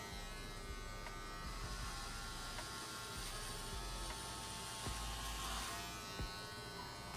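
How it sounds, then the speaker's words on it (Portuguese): An electric hair clipper fitted with a number 3 guard buzzes steadily and close up while trimming the top of the head during a military-style men's haircut, with light crackling from the cut. "Estou passando aqui uma máquina 3, pessoal."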